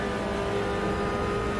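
A damaged race car engine at Suzuka in a racing video game drones steadily throughout, a dense, continuous mechanical roar with no clear revving or passes, loud and close with no talk over it.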